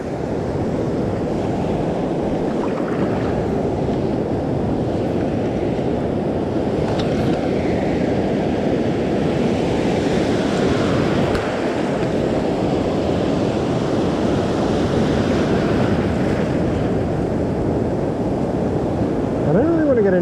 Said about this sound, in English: these waves are a lot bigger than I thought they'd be